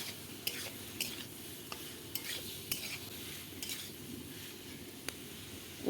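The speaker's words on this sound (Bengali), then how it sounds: "এবার বন্ধুরা এই আলুটা ভালো করে কষিয়ে নেব মশলার সঙ্গে" Boiled potatoes are stirred and fried with spices in a pan for egg curry: a steady sizzle with intermittent sharp spatula scrapes and clinks against the pan, close up, with no talking.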